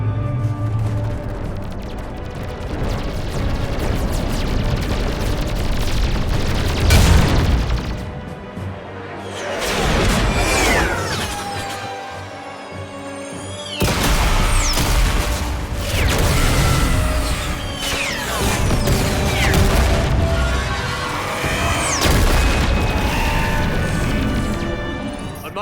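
Loud battle noise from the Mass Effect 3 video game rolls on without a break. Heavy blasts, crashes and whooshes come in waves, all dense and close.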